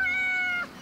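A single cat meow from the video game Yes, Your Grace: a short, clear, tonal cry that bends downward at the end, close and alone.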